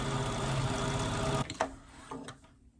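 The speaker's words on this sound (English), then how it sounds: "I'm gonna trim it and zigzag stitch this down." Sewing machine zigzag stitching on knit sweater fabric, a steady close whirring run for about one and a half seconds that stops abruptly, followed by faint handling rustles.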